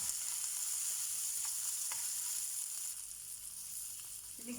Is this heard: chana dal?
yes